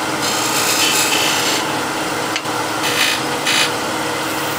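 A skew chisel cuts into wood turning on a lathe, a loud continuous hissing scrape with brief swells and one short break, close up.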